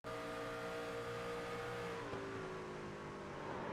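Engine of a race truck in a racing video game, probably a TrakRacer Truck Series race at Rockingham, holding a loud, steady high-pitched drone with a slight pitch drop midway, no talk over it.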